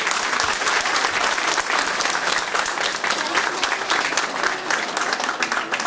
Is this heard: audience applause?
yes